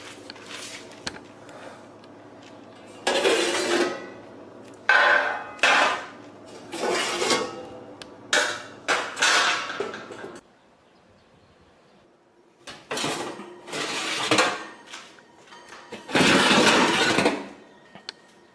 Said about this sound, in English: the next thing you need to do is to remove the bottom grills